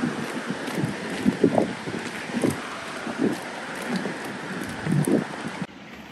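Wind blows outdoors and buffets the microphone in uneven gusts, with a steady hiss and low rumbling surges that cut off abruptly near the end.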